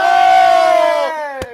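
A crowd at a Knicks vs. Pistons watch party roars loudly in one sustained cheer that fades out, ending with a sharp clap-like hit.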